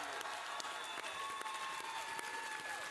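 A livestreamed panel audience at D23 applauds and cheers for a Kingdom Hearts deep dive, a steady, fairly quiet wash of clapping with a few sharper claps throughout, distant rather than close.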